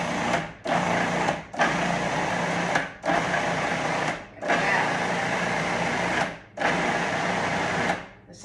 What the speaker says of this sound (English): Now we're going to puree this up.